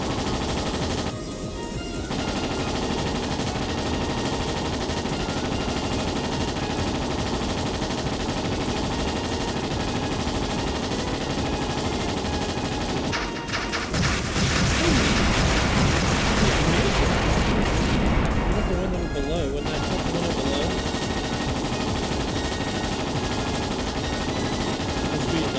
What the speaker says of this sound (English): We'll just shoot at each other.